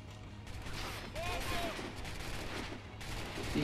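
Bursts of machine gun fire in the video game Assassin's Creed 3, rapid crackling volleys at moderate distance mixed with game ambience and a voice talking.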